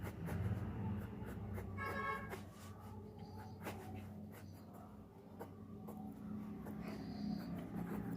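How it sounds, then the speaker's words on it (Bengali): Pencil sketching a tree beside a large tile-roofed house on paper for a village watercolour scene, a soft continuous scratching of graphite with a few brief sharper strokes, close and faint throughout. "যে ঘরটা টালির, তার পাশে একটা গাছ ছিল, সেই গাছটা আঁকছি।"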